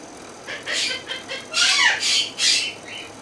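Pet chickens squawking and clucking in the morning, several loud, close calls in separate bursts over steady background noise.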